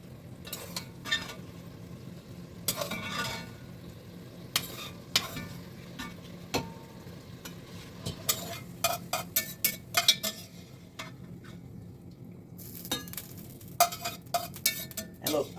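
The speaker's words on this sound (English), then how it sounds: "then I'll put my onions in the pan" Onions sizzling in a soup pot for Zuppa Toscana, cooked in leftover bacon fat: a quiet steady fry broken by irregular scraping and clinking as a utensil stirs them.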